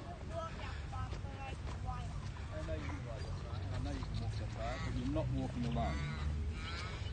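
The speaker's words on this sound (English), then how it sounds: "So these are our local seagulls" Seagulls call repeatedly at an Australian beach, with harsh squawks and cries overlapping in a noisy flock, set against wind and boat sounds and mixed with people talking.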